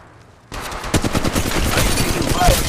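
After a quiet half-second, automatic gunfire bursts out in Apex Legends Mobile on the Kings Canyon map, rapid loud shots in fast rhythmic volleys that continue steadily to the end.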